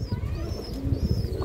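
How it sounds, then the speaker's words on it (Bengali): A Kali Bagha female pigeon coos in a low, steady murmur held close by, with faint higher chirps from other birds in the background. "খুব সুন্দর কবুতর দর্শক, কালীবাঘা মাদি কবুতর।"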